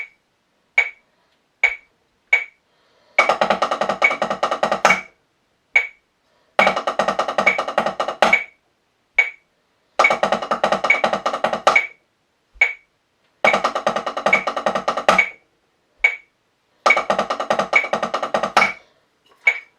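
A steady metronome clicks throughout, while bursts of rapid, tightly packed drum double strokes come in repeated long-roll rudiment phrases, each ending on a sharper accented hit.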